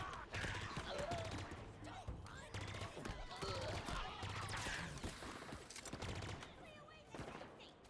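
Rapid bursts of Covenant weapon fire in Halo Infinite, repeated volleys of sharp shots with game effects across the whole stretch, loud and continuous, with a player's voice talking over it.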